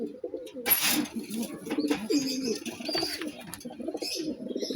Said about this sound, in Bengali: আরেক জোড়া থরের কবুতর দেখাবো আমি